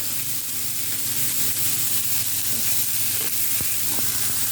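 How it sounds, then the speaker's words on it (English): Spring onions sizzle loudly and steadily in a hot pan, a dense, close frying hiss with a few small clinks near the end. "get the spring onions in"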